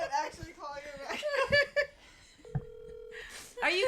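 A phone call is placed: a short beep of dialing, then a steady ring tone, with people talking and laughing close by before and after the ring.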